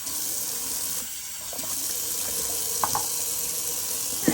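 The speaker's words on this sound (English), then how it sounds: "put some water back in the sink" Tap water runs steadily into a bathroom sink during a wet shave, a continuous close splashing flow with a few small clinks from the basin.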